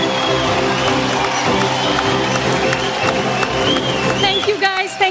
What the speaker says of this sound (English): Well, with a round of applause, please welcome the godmother of film criticism, Anupama Chopra.